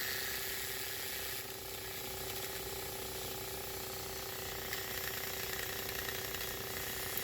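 A 3D-printed pulse motor rotor spins steadily, driven by a coil through a circuit fed from a bridge rectifier, giving a continuous fast ratcheting, clicking whir with a faint high hiss, constant and close throughout with no talk.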